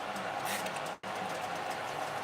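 Homemade condensed mushroom soup simmers and thickens in a pot on lowered heat, a steady close hiss and bubble that drops out for a split second before resuming.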